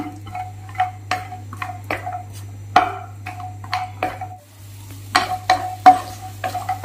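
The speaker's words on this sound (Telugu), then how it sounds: "ఒక 10 బాదం పప్పులు, ఒక 10 జీడిపప్పులు రెండు కలిపి శుభ్రంగా వేగించుకుందామండి" About ten almonds and ten cashews frying in hot ghee, a low sizzle under repeated clicking taps of a spoon against the pan in an uneven rhythm, close and without talk.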